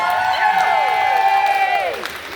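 An audience celebrates a storyteller's 40th birthday with a steady burst of clapping mixed with high whistles and whoops, lasting about two seconds before tapering off.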